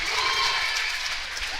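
A home crowd of Lakers fans at a senior girls' high school volleyball match, clapping and cheering in a steady, loud roar that fills the gym.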